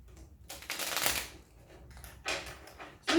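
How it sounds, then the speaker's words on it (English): Tiny game cards from the Ecosystem card game being shuffled by hand, two short bursts of crisp riffling close up, with a quiet pause between them. "They're a little tricky to shuffle because they're so tiny."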